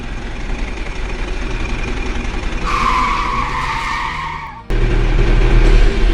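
A toy G.I. Joe Jeep arrives in a playful scene with continuous engine-like rumble, then a loud tire skid squeal in the middle, followed by a sudden louder rumble, no talking.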